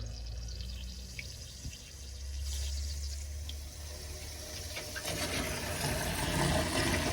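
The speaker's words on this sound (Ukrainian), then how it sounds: "вода б'ється, витісняється повітря в колекторі" Water gushing and spluttering from a tube on a solar collector water heater, a low rumbling churn giving way to a louder hissing rush as trapped air is forced out of the collector.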